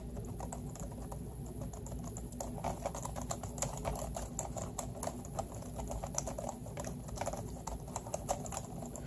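Steady typing on a Jelly Comb ultra-thin full-size wireless keyboard, fairly quiet, soft rapid keystroke clicks in an even stream throughout, close by with no talking.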